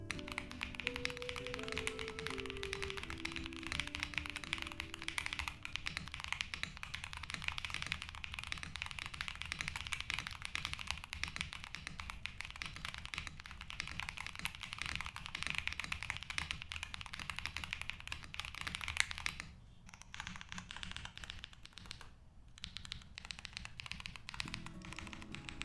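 Typing on a NuPhy Kick75 high-profile mechanical keyboard, a quiet, continuous run of close key taps in an irregular rhythm, with a short pause near the end.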